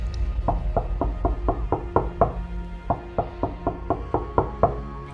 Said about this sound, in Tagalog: meron namang isang panauhing kumatok sa kanyang tahanan